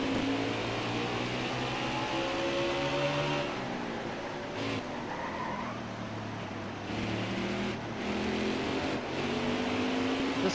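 A NASCAR Heat 4 race car engine screams at Martinsville, holding a high sustained pitch that rises and falls with shifts and braking through the short track's corners.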